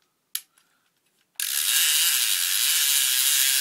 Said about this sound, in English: But once you turn on the line counter,